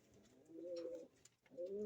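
A large pigeon, roughly 11 to 12 inches long, coos in two low, throaty bursts separated by a short pause, close by and fairly quiet, with no talking over it.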